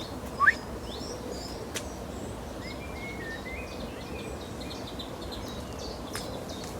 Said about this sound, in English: There's one of the chipchaffs is still calling here